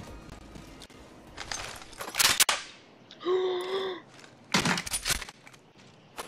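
The Mozambique shotgun fires in the Apex Legends video game with a few sharp, punchy shots. A brief tonal in-game chime sounds between the blasts.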